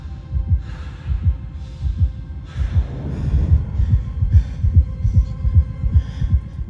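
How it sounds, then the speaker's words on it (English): A loud, steady heartbeat thumping in a regular double-pulse rhythm over a low hum, with no voices. "he hears a heartbeat"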